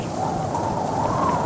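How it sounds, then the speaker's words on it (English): Steady rain with a thunderstorm rumble in the video game Rec Room, a continuous loud hiss of falling water over low rolling noise, with no voices. "It's raining."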